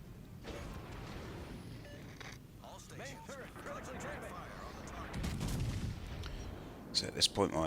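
KMS Bismarck naval guns firing in World of Warships Legends, heavy booming blasts and rumbling among game sounds, with a few sharp reports near the end and a player talking over it.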